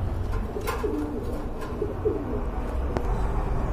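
Pigeons coo softly nearby in low, rolling calls, with a few sharp taps and rustles in the background.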